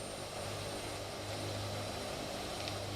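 Engines of a Hercules transport aircraft spooling up in a flight simulator, a steady, droning propeller roar with a low hum underneath, loud and continuous throughout.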